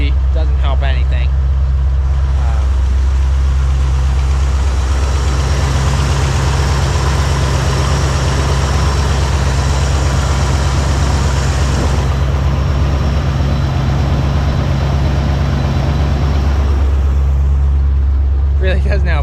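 A 1982 Corvette's smog-era 350 V8 idles steadily and loudly close by, a deep constant rumble for the whole stretch, with the tone shifting slightly partway through.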